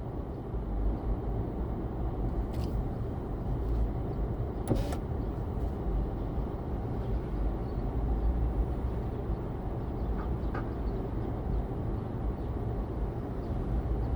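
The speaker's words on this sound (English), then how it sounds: "I crack my window a little bit, that way we can capture the sounds of the street." Steady low rumble of Bronx street traffic along Jerome Avenue, heard from inside a moving car through a slightly open window, with faint passing clatter and brief sharper sounds now and then.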